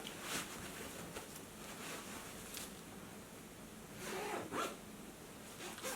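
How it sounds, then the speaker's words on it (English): A hair-protecting night cover being zipped closed over a child's long natural hair, with a steady close zipping rasp that comes in several short pulls across the whole stretch. "Just zip it up and you know that it's going to protect your kids' hair."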